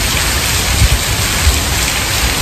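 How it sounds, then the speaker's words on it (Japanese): Heavy downpour of rain during a night of eel fishing by a river, a loud, dense, steady hiss of pouring rain with no pauses and no talk. "いやいや、土砂降りだなー。 すげえ雨だな。"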